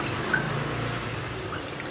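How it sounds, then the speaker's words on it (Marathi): Water poured into a pot of rice in a kitchen, a soft steady trickle and splash running continuously at moderate level, with no talk over it. "त्याच वाटीत 2 वाट्या पाणी टाकून घेते."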